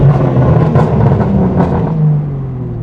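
BMW G80 M3 with exhaust valves fully open, a loud close engine rumble rising and falling through a couple of quick revs before settling lower, with no talk over it.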